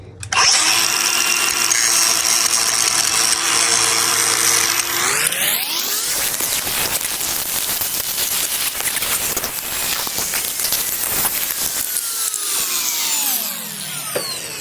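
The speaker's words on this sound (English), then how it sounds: "I'm going to go ahead and get my grinder and grind it down real good" An angle grinder grinding down a damaged steel bolt, a loud, close, high-pitched whine that drops into a harsh, gritty, scraping roar as the disc bites into the metal, then eases off at the end.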